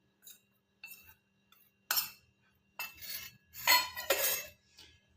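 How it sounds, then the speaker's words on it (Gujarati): Leftover cooked rice and flour stirred together in a bowl for rasiya muthiya, heard as several separate bursts of utensil scraping and clinking, fairly faint and close, with quiet pauses between. "હવે આપણે જેટલા જ ભાત લીધા છે તેટલો જ આપણે લોટ લીધો છે તે અંદર મિક્સ કરીશું"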